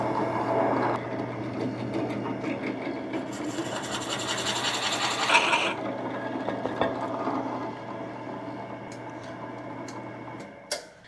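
A 1.5 inch Forstner bit drills holes into scrap wood, a steady whirring grind that rises louder for a couple of seconds mid-cut, then eases off before a few clicks at the end.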